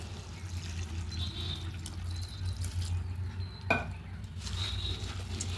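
Flattened rice (chira) being washed in water in a bowl, with steady faint sloshing and light clinks of utensil or bowl, one brief sharper knock midway, no talk.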